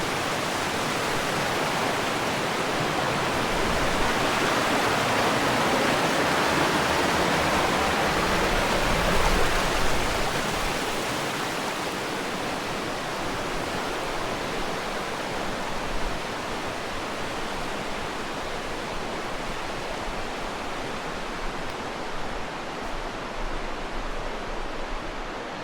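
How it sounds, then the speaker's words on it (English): Noland Creek in the Great Smoky Mountains rushes steadily as a dense, broadband hiss of flowing water, close and even for the whole stretch with no voices. "The last view of Noland Creek."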